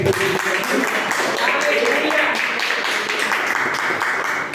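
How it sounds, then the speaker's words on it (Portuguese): A church congregation clapping hands during worship, dense steady applause-like clatter throughout, mixed with voices. "Aplauda Deus com as palmas"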